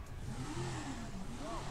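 A car engine in GTA 5 revs steadily, its pitch swinging up and down in short surges, fairly faint and continuous with no speech.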